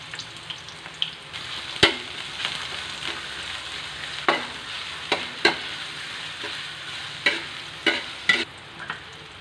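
Onion sizzling and frying in hot cooking oil in a pan, a steady crackling hiss with scattered sharper pops and stirring clicks, close up and with no talking.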